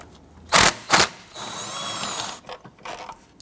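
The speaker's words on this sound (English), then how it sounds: "Use your 10mm socket and extension." A ratchet with a 10mm socket and extension loosens bolts on a 2006-2010 Hummer H3 3.7L, giving two sharp clicking bursts followed by a longer steady ratcheting whir, close up, with no talking.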